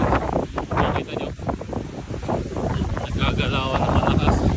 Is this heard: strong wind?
yes